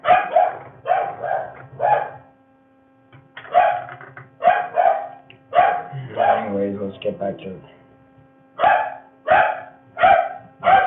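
A dog barks repeatedly in short bursts with brief pauses, loud and close, while a person speaks briefly in the middle.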